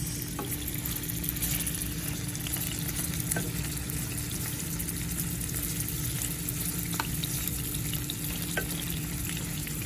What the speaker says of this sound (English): I'm just going to be frying this for a little bit